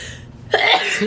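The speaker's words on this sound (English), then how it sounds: "I can't stop sneezing." A single close, abrupt sneeze-like burst breaks after a moment of quiet, tagged more like a cough, from a woman working at home one morning.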